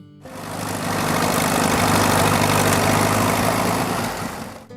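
A Minneapolis-Moline U tractor engine runs steadily, a loud close rumbling drone that rises in and holds evenly before easing off.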